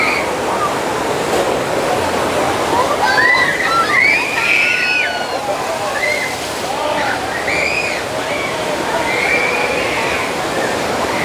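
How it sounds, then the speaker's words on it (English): Water pours and sloshes in a steady rush beneath the trestle of a Six Flags roller coaster, a continuous splashing roar with voices talking and faint cries over it. "underneath the trestle over there, there's a deluge of water."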